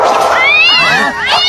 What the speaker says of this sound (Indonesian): Hanya anak kucing